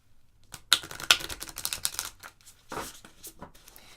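Tarot cards being shuffled produce a rapid, crisp flurry of papery snaps and flicks, close and moderately loud, with a few sharper clicks then a softer riffle.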